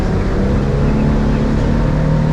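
A 2025 Duckworth 22 Navigator boat cruises at 31 mph and 3,700 RPM. Its engine holds a loud, steady drone with a low harmonic hum, and wind noise runs through the whole stretch.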